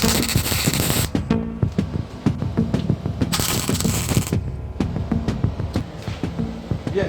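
A welding torch fuses the legs of a desk table with two loud bursts of crackling, spitting noise, separated by stretches of quieter clicking and metallic tapping nearby.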